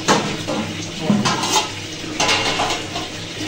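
Okra being rinsed under running water in a strainer, with steady splashing and clinking of the strainer and vegetables against a metal pot, close and continuous with several louder bursts.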